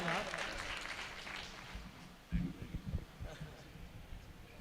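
Audience at a mushaira poetry gathering in Surat claps in a loose burst that swells and fades, with a host's amplified voice talking over the applause.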